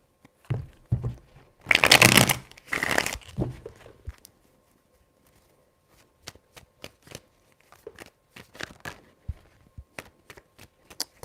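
Tarot cards shuffled close by: a few loud, rasping riffle bursts in the first seconds, then a scatter of sharp, separate taps and snaps as the deck is cut and squared, with no talk.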